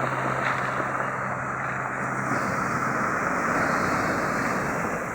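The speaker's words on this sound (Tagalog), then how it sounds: "Grabe talaga kalalaki ng alon, oh." Big ocean waves rolling onto a shore where fishing boats are beached in rough weather, a steady broadband roar of surf mixed with wind buffeting, continuous and fairly close with no talk.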